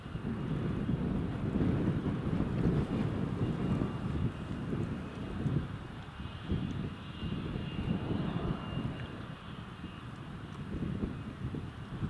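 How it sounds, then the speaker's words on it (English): A Loganair airplane taxis at Newcastle International Airport in rain, its engines a steady low rumble heard from a distance, with wind buffeting the microphone. "Loganair is just about ready to taxi."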